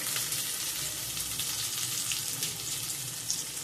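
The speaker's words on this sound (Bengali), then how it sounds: "মানকচুটা ততক্ষণ পর্যন্ত নাড়বো যতক্ষণ মধ্যে রসটা না মরে যায়" Mashed taro with garlic, nigella seeds, green chili, oil, salt and turmeric sizzles and fries in a wok while being stirred, a steady soft crackle with faint scraping and no voices.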